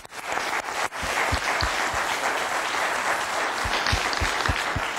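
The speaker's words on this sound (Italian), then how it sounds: "applauso, andiamo avanti" Audience applause at a public event presenting the municipalities of the Chieti–Pescara area, a steady dense clapping from a crowd holding evenly for about five seconds, with a few sharper claps near the front.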